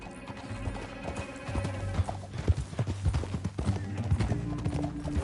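Horse hooves clatter in a fast galloping rhythm, close and loud, with an occasional whinny and background music, in the video game Red Dead Redemption 2.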